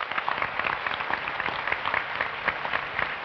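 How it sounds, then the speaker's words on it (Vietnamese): Applause from a studio audience at a Vietnamese television show, a steady dense patter of many hands clapping continuously at moderate volume, with no talking over it. "Và chúng ta hãy cho một tràng pháo tay để đón nhận món quà này đến với Phạm Hồng Minh."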